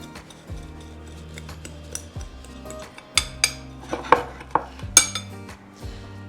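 A spice rub of garlic powder, onion powder, pepper, salt and brown sugar being mixed in a bowl: a utensil clinks and taps against the dish in irregular knocks, some sharper, with quiet gaps between them.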